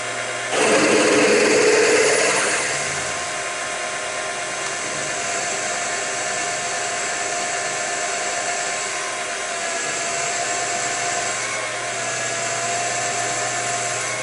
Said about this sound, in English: Let's see how the drilling goes.